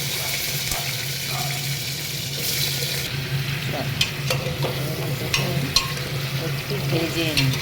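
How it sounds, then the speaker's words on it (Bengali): Cut potatoes frying and being stirred in a pan with cumin, bay leaf, cardamom, cinnamon and dried chilli in the oil, a steady close sizzle with scraping stirs and utensil knocks, no talk. "একটু ভেজে নিই।"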